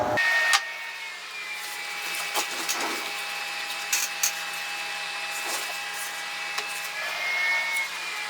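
A laptop cooling pad fan on its minimum setting whirs steadily with a faint high-pitched hum, with a few light clicks and bumps on top.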